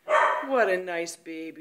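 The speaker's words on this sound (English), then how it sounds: "That's the dog barking." A dog barks and yips in short, high-pitched bursts in a home, mixed under a woman's close, sing-song baby talk.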